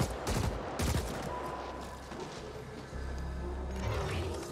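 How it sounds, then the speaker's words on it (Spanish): Gunfire in the sci-fi shooter The Ascent: a few quick bursts of shots early on, then a steady wash of combat noise and low rumble, fairly quiet overall. "Yo voy a ir disparando ya, que no me fío."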